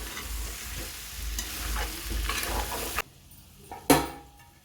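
Potato and drumstick curry stirred in a pan, a spoon scraping through the sizzling mixture in repeated strokes, then the sizzle drops away with a single sharp clatter of metal near the end.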